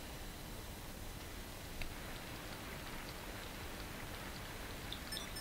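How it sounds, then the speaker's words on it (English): Rain falling in the Super Black Bass fishing video game, a steady, faint hiss of even noise that continues unbroken with no talk. "Oh, rain."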